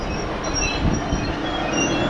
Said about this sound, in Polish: Ale ładny grudziącki pociąg.